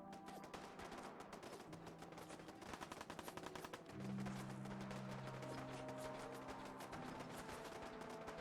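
Rapid machine gun fire in Fallout 4 during a midnight ambush, dense trains of close, sharp shots rattling in long bursts, joined by a low droning hum in the second half.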